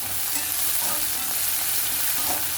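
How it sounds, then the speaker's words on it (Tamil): Ginger garlic paste sautéing in a pan, a loud, steady hiss and sizzle with faint stirring, continuous and close throughout. "நல்லா நம்ம இஞ்சி பூண்டு பேஸ்ட்டோட பச்சை வாசனை வந்து போகிற அளவுக்கு நல்லா வதக்கிக்கோங்க"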